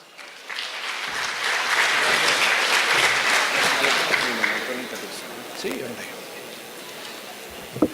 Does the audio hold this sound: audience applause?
yes